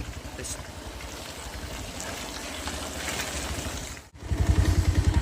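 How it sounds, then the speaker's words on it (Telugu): A loaded vehicle labours over a badly damaged road, its engine chugging in a rough pulsing rhythm that surges louder near the end after a brief dip, close and continuous. "చూస్తున్నారు కదా, లోడ్లో ఉన్న బండి ఎంతో ఇబ్బంది పడుతూ వెళ్తుంది."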